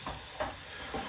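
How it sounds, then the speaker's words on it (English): Half a chopped white onion sweats in hot oil in a pan over medium heat, giving a soft steady sizzle with three faint stirring scrapes, close and quiet with no talking. "all you're doing when you're sweating onions is it's a really low heat in a hot oil or a butter"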